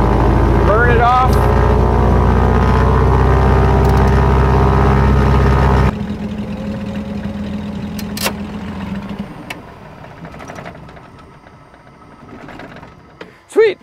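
A piston aircraft engine idles loud and steady nearby for several seconds, then cuts out abruptly, leaving quieter background noise with a few brief clanks.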